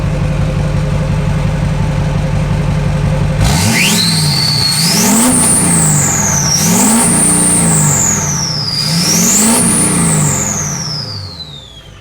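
A Duramax diesel engine swapped into a K20 truck idles with a steady rattling pulse, then revs hard several times in rising and falling surges with a prominent turbo whistle, loud and close.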